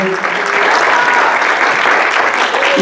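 A crowd at a live concert applauds continuously and loudly, a dense wash of clapping with faint voices mixed in.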